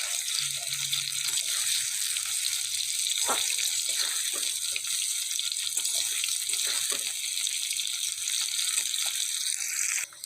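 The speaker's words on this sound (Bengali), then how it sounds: "দেখো ফুলকপিটাও লাল করে ভেজে নিচ্ছি, আর একটু ভাজবো তারপরে তুলে নেব" Cauliflower florets frying in hot oil in a pan, giving a steady close hiss and sizzle with faint crackles throughout, no voices.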